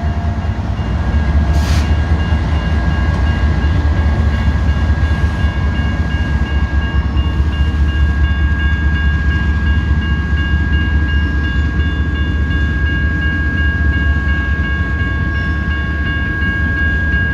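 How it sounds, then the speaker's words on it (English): BNSF and Norfolk Southern manifest freight train passes the N Street railroad crossing in Bakersfield, California, a loud, steady rumble of rolling wagons close by, with a crossing bell's ringing tone sustained over it. "There we go. That's a manifest train."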